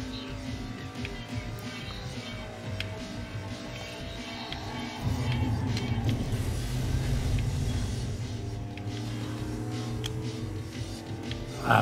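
Engine of a racing car drifting in Ridge Racer Unbounded, a steady droning whine that rises and thickens partway through, with road noise underneath and no talking.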